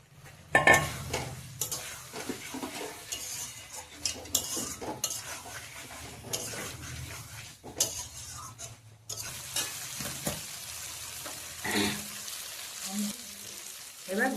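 Shrimp added to a hot pan with turmeric powder in a Bengali doi posto chingri preparation, giving a steady sizzle and frying hiss with frequent scraping and stirring of a utensil against the pan, close and continuous.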